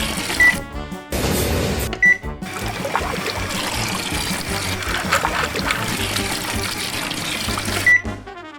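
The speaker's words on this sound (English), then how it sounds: "Water is pumped up from the pool below to wash the cars." Water pumped through a LEGO Technic toy car wash system, a steady loud rushing flow lasting throughout, with a few brief high electronic beeps and sharp clicks.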